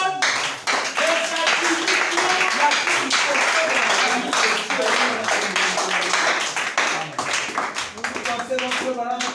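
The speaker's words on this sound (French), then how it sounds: "Billy Paul, acclamez pour Billy Paul" Audience clapping for Billy Paul at a church service, a steady patter of many hands continuing for several seconds, with voices talking over it.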